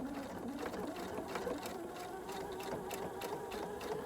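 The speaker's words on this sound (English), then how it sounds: "And I'm gonna go ahead and sew around my pocket." A sewing machine stitches a back pocket onto pajama pants, a close, steady rapid whirring with a buzzing rhythm that runs without pause and no speech.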